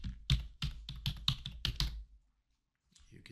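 Computer keyboard typing in quick bursts of distinct keystrokes, close and clear for about two seconds, then a short silence before a faint tail of sound.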